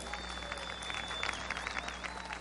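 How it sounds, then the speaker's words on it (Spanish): Faint, steady crowd applause at an official May Day rally in Nicaragua, heard from a distance as a continuous wash of clapping with a steady hum underneath. "Un aplauso para Oscar Felipe Ordóñez Herrera."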